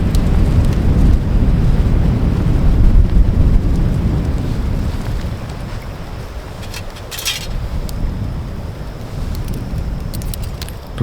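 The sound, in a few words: strong wind by a lake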